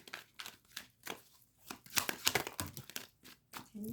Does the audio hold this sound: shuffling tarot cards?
yes